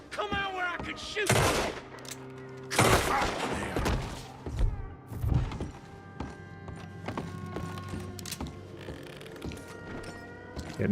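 Several loud gunshots from Red Dead Redemption II crack out in separate bursts, spaced a second or so apart, over a background of game music and ambience.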